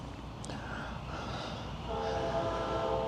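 A freight train rumbles on a run from Yeoman Yard toward Waycross, a steady low rolling noise with a horn-like tone rising near the end, heard from close by.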